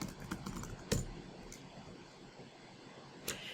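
Quiet, close clicks of a computer keyboard as a password is typed, a few scattered keystrokes with sharper taps near the start and end.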